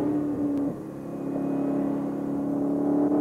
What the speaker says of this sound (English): The engine sounds good, and the car feels right.